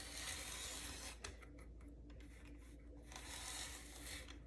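Paper being cut with a Circle Maker tool, a steady close scraping and rubbing rasp that drops in the middle and then picks up again.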